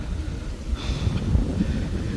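Strong wind gusts through a mountain valley in the Western Ghats, a dense low rumbling buffet against the microphone that swells and surges unevenly over a couple of seconds.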